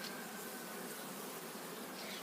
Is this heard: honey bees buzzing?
yes